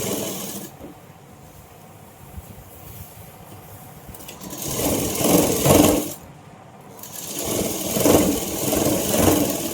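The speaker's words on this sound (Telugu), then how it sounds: "ఇలా డబల్ స్టిచ్చింగ్ చేసుకోవాలి." A sewing machine runs in two bursts, double stitching the side seams of a Patiala pant. The rapid mechanical whirring starts and stops, with quieter pauses between runs.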